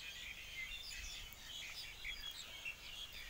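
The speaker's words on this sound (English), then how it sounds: "the birds singing around me" Birds chirping and singing near a forest on a hot day, with several high, bright calls overlapping at a moderate distance over a soft, steady outdoor hush.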